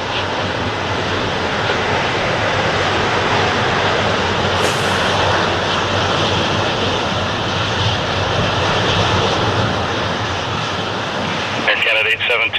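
A jet airliner taking off from runway 6 left at Toronto Pearson makes a steady, loud engine roar that fills the whole stretch, with radio chatter mixed in.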